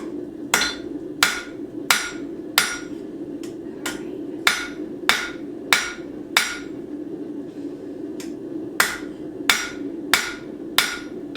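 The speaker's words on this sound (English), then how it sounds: "We are going to hammer this direction." A hammer strikes a steel knife blade along its back line to straighten it, ringing out in a steady series of sharp metallic blows over a low workshop hum.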